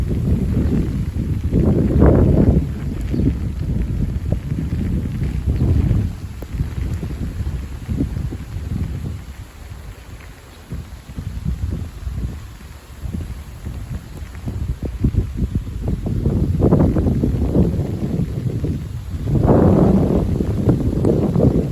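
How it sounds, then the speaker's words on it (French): Steady rain with a little sleet falling during an April squall, with strong, rumbling north wind gusts battering the microphone, swelling and easing over time. "Toujours de la pluie."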